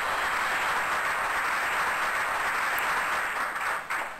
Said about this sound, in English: they can shut up with the fucking applause